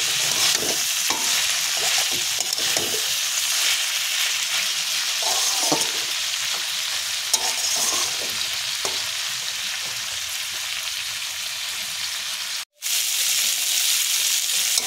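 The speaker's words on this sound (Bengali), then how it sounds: "চিংড়ি মাছটা দিয়ে আমি আবারও একটু নাড়াচাড়া করে নেব।" Prawns and pointed gourd tips are stirred in a sizzling pan, giving a steady fry hiss broken by soft scraping and tapping of the spatula, briefly cutting out near the end.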